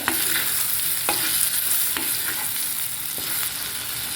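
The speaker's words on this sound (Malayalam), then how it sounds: "നമ്മുടെ വെണ്ടയ്ക്ക പച്ചമുളക് ഉള്ളി ഒക്കെ നന്നായിട്ട് വഴന്നിട്ടുണ്ട്" Okra, green chilli and onion sautéing in a pan with turmeric, salt and chilli powder, a dense steady sizzle with a few sharp stirring scrapes every second or so, close and without voices.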